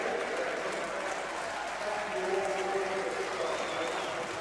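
A stadium crowd claps steadily for Nottingham Forest as they parade their trophy at the Centenary Tournament final, with continuous applause and a commentator talking above it.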